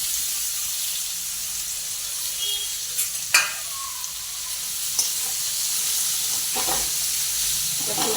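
Ripe chibhda cucumber hits hot oil seasoned with garlic, asafoetida and turmeric, giving a bright, continuous hiss and sizzle up close, punctuated by a few sharp clinks and stirring knocks of a utensil, with no talk.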